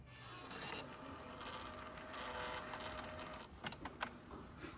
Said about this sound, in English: now I'm going to go ahead and press print, and it's going to print out on my Epson ET8550